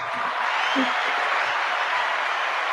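A steady wash of clapping, like a crowd applauding, continuing evenly throughout with faint low murmurs beneath.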